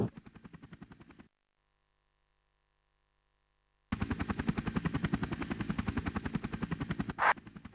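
A Chinook helicopter in the video game Army Men Air Attack 2 gives a rapid, pulsing rotor chop that stops abruptly, falls silent, then resumes loud and rhythmic, with a brief sharp burst near the end. No voices are heard.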